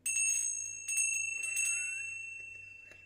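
Small bells chime in a few bright, ringing strikes with long decaying tones, heard fairly close over a quiet low hum during a Viennese song livestream.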